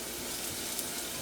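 Shallots sauté in a pan with a steady, close, even sizzle and hiss throughout, with no talking over it.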